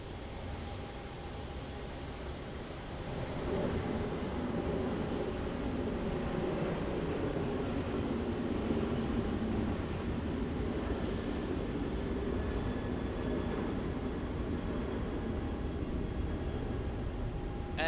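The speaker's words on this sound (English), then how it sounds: "Just adjusting that as that Virgin Australia flight, VA 729 took off to the Gold Coast" A Virgin Australia jet takes off from Melbourne Airport, a faint, distant broadband roar that swells slightly and holds steady, with no talking.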